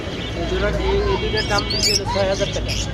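Caged birds at the Mugda bird market call in a crowded, busy setting, with short chirps and whistles rising over steady market hubbub and people talking nearby.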